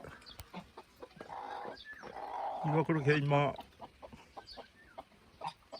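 A rooster among chicks near a coop, giving a clear loud harmonic crow-like call in the middle of the stretch, with someone talking before and after and scattered small chick peeps and clucks.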